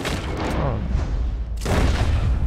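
A gunshot in Red Dead Redemption II, a loud booming blast with a dense rumbling tail that swells again near the end.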